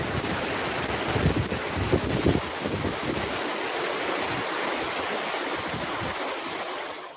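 Ocean waves wash steadily onto a beach in a broad, continuous roar with heavy wind buffeting the microphone, rumbling more strongly in the first few seconds, then settling into an even surf hiss.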